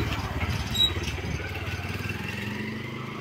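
A motorcycle engine putters steadily nearby beside a railway line, a low pulsing drone that holds fairly constant, with a voice briefly speaking over it.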